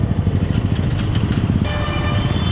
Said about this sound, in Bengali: সাইমনের বাইক, বুঝতে হবে সেলফ দেওয়ার পরে মিটার লাইন পায়।